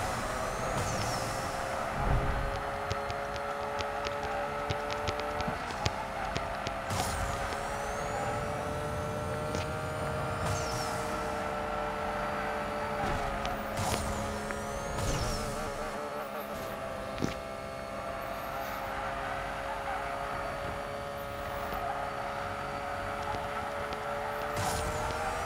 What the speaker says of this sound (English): First time driving the 911 after our stage up and subsequent upgrades.